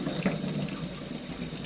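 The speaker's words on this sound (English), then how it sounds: "Get some cold water in there." Cold water runs steadily from a tap, a continuous close hiss and splash used to cool a Casio F91W watch strap, cutting off abruptly at the end.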